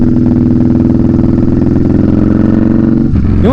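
Yamaha Bolt motorcycle engine runs loud and close with a steady, throbbing mid-pitched drone, then briefly blips the throttle near the end.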